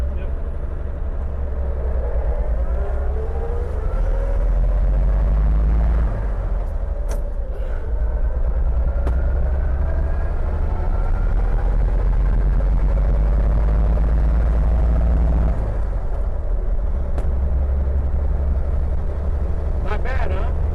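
A 1938 Chevrolet pickup truck drives along with a steady low engine rumble and road noise, close and continuous throughout, with people talking over it.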